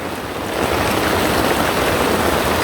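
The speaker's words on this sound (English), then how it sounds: "Alright, the storm has begun." Storm rain and rushing water around a bush tent in the outdoors, a dense, loud, continuous wash that builds after the first half second and stays steady, with no voices.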